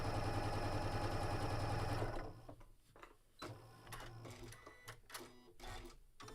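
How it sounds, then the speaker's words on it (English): A sewing machine runs in a steady, loud, rapid stitching burst while two rows are sewn together, then stops after about two seconds, leaving scattered clicks and light handling noises. "I will sew 2 rows together at a time"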